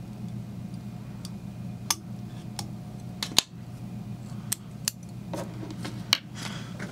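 Small scissors snip the tying thread while a fly is tied at the bench: a handful of sharp, isolated clicks and snips, spaced irregularly, sit over a steady low hum in a quiet room.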